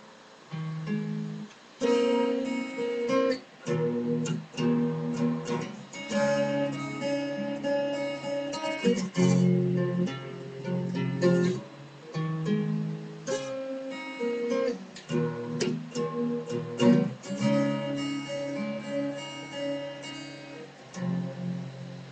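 Acoustic guitar tuned a half step down plays the special live-version intro of a song, strummed chords and picked notes in steady phrases with short pauses, loud and close, alone without voices.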